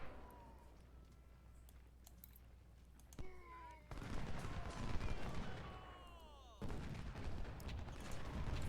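Distant musket volleys and cannon booms in the Civil War strategy game Ultimate General: Civil War, rolling in several bursts of crackling gunfire with sharp reports, the battle noise swelling and dropping across the stretch.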